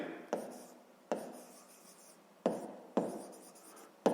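A pen scratches on paper during a sixth-grade maths exercise, in four or five short, faint strokes with quiet pauses between them, close up and with no talk.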